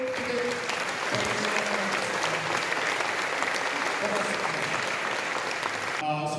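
Audience at a commemorative event clapping for two former prime ministers, a dense, steady round of applause filling the hall throughout, with brief speech at the end.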